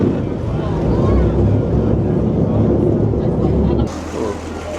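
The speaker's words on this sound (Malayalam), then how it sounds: "അങ്ങനെ നമ്മുടെ ബോട്ട് ബാലി തീരത്തോട്ട് അടുത്തിരിക്കുകയാണ്." A boat nearing the shore off Bali at sea, with a steady engine rumble and heavy wind buffeting the microphone, loud and continuous, easing slightly near the end.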